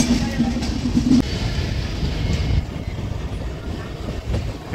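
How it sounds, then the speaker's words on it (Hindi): The Goa Sampark Kranti Express, hauled by a diesel locomotive near Vadodara Junction, rumbles steadily along the rails with a low continuous roar and faint wheel clatter, heard close from on board. "diesel locomotive"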